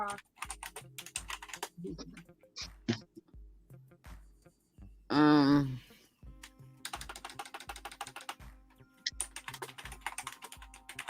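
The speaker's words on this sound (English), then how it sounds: "I love hearing a keyboard pounder like that." Fast, hard typing on a computer keyboard, close and clattery, with a brief pause midway where a voice breaks in, then the rapid key strikes resume.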